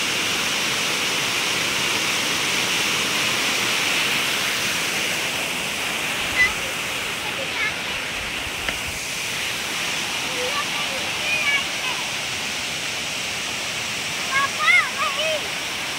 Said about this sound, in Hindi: इसी को बोलते हैं कटुल का सा वाटरफॉल।